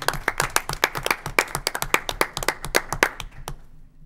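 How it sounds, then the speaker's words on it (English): Brief round of applause at a municipal board meeting award moment, a small group clapping in distinct sharp claps that thin out and fade near the end. "That applause is from Megan and all the winners"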